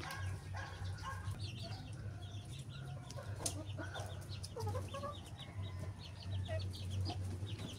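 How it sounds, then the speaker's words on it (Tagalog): Large free-range chickens on a farm yard, with repeated clucks and scattered calls over a steady low background hum, moderately close and continuous. "So nakaabang po dito yung mga malalaking manok dito."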